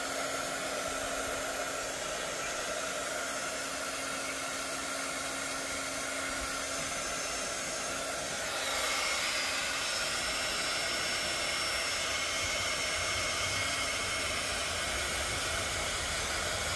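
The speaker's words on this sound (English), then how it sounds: "My glue gun, or my heat gun, is just starting to heat up." A heat gun blows steadily on fabric flower petals, a continuous close airy roar with a slight change in pitch and level partway through and no talking.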